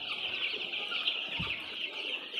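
Tiger breed chickens cluck and call on a small poultry farm, a dense, continuous chatter of many birds close by, with no talking.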